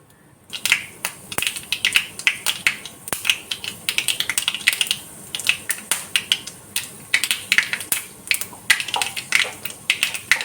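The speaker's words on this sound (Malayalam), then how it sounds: "ചട്ടി വെച്ചിട്ടുണ്ട് എണ്ണ ഒന്ന് ചൂടായി വരട്ടെ നമുക്ക് കുറച്ച് കടുക് കൊടുക്കാം" Mustard seeds pop in hot oil in a pan, sharp irregular crackles and snaps coming in rapid clusters, close and loud, with no talking.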